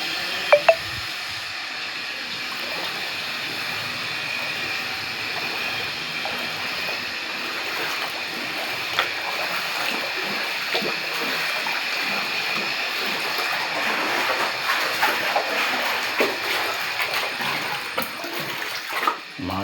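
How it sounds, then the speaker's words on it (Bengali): Floodwater in a house is being pumped out by a motor pump, a steady loud rush of water and mechanical drone that continues evenly throughout, with a few small knocks and splashes and no talk. "লাস্টে মোটর দিয়ে পাম্প করে জলটা বাইর করা হচ্ছে।"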